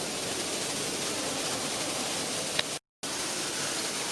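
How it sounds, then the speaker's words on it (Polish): A steady, even hiss of an irrigation system spraying water among indoor garden plants in a high-rise building, constant and fairly close, broken by a brief moment of silence near the end. "Ten częsty szum, który tu słyszymy, to właśnie system nawadniania."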